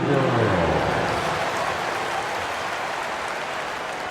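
An arena crowd at a Lakers versus Spurs NBA basketball game applauds the cheerleaders, a dense, even wash of clapping and crowd noise that holds steady and fades slightly over four seconds.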